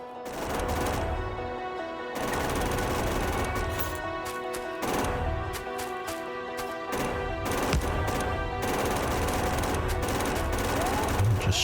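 Rapid bursts of gunfire in the Factorio video game, a dense clattering fusillade of shots repeating in long volleys with brief pauses, loud and continuous across the clip.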